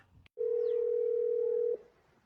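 A telephone dial tone heard while placing a call, one steady, clear tone holding for about a second and a half before cutting off, with quiet room noise around it.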